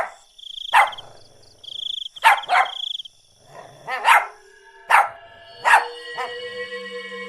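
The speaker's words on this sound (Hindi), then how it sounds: "वो उसकी तरफ देखकर भौंकने लगता है" A dog in an animated story barks at a witch at night, five or six sharp barks spaced over several seconds, loud and close, with a faint insect chirp in the quiet gaps.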